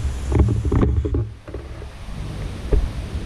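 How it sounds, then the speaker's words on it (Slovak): Strong, gusty wind buffets a lakeside campsite in bursts of low rumbling, with a surge followed by quieter moments and another gust. "Ale taký silný vietor fúka"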